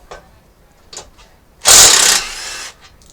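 A T45 Torx bolt being removed from the winch plate of a Jeep JLU Rubicon: faint clicks, then a loud, close burst of whirring tool noise for about a second that fades into a softer tail.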